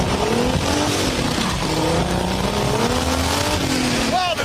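Datsun and Subaru cars drag racing, engines roaring continuously at high revs with a droning pitch that rises and dips, ending in a brief sharp squeal.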